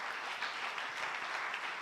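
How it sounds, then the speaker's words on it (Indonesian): Congregation applauding during a church service at GBI Pantai Permata in Batam, a steady even wash of many hands clapping, fairly distant and soft, with no speech over it. "Beri tepuk tangan dulu untuk Tuhan kita."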